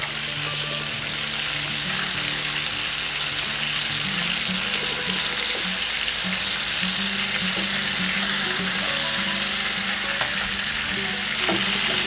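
Chicken pieces fry for Filipino adobo in a pan, giving a continuous loud sizzle with occasional stirring and scraping sounds throughout and no talking.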